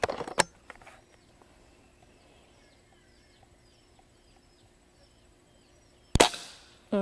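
An Umarex Walther Reign .22 caliber bullpup air rifle fires two sharp, loud cracks, one at the start and one near the end, with faint birdsong in the quiet between.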